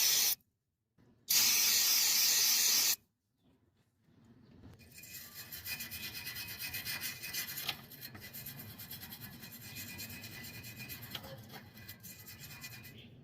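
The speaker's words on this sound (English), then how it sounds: "I'm just going to hit everything with some brake clean and a wire brush to make sure we have a good surface" Two loud bursts of brake cleaner hiss onto an exhaust pipe, separated by silence, then a steady scratchy wire brush scrubs the metal surface with continuous rasping strokes.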